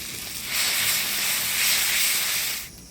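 Ground spice pastes of ginger, cumin, coriander and chili, with garlic, turmeric and salt, hit hot oil for mutton curry, making a loud, close, continuous sizzling hiss that swells briefly and then cuts off near the end.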